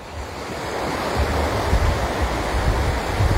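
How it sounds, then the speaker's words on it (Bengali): Sea waves roll and break steadily on the open, quiet beach at Tajpur near Digha, a continuous close surf wash with wind noise on the microphone. "ঢেউগুলো আসছে দেখুন।"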